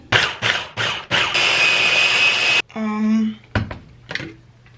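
A kitchen blender whirs through garlic powder, nutritional yeast and olive oil, starting with a few short pulses and then running steadily before cutting off, followed by a brief tonal whine and a couple of knocks.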